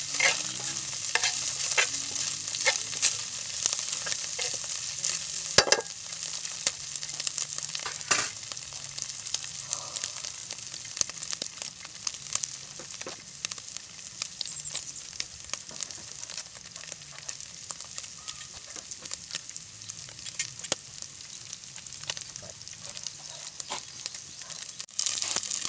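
Exotic shrimp frying in a pan, a steady close sizzle with sharp crackling pops scattered throughout, some louder snaps standing out against the continuous hiss.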